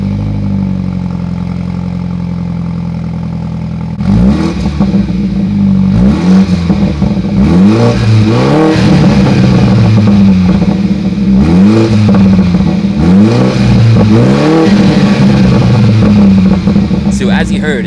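A BMW 330i F30 with a new dual exit exhaust and no muffler, idling low before being revved hard in repeated loud bursts that rise and fall, with aggressive burbles and crackles between the pulls.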